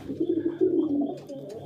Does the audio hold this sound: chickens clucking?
no